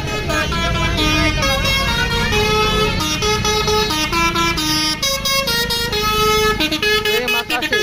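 Telolet horn of a Titan Nirwana bus passing a roadside spot in Ciamis, a loud, close run of stepped melodic tones repeating for several seconds over an idling bus engine.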